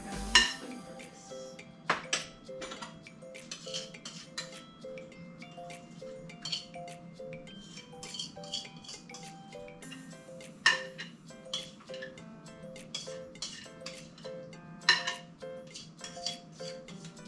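A metal spoon clinks and scrapes against a bowl while mixing chocolate pie ingredients, steady irregular tapping and clatter, close and fairly quiet, with no talking.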